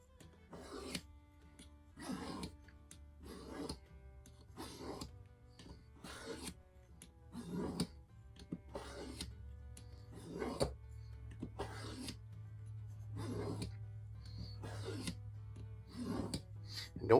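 A Buck 110 knife blade is stroked across a green DMT Duosharp 1200-grit diamond stone, a regular series of short, dry rasping scrapes at roughly one-second intervals, close and fairly quiet, with no talk.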